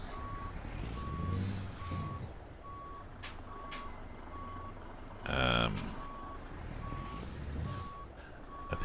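A truck in American Truck Simulator sounds a steady reversing beep at regular intervals while engine rumble and hissing air-brake bursts come and go in the background.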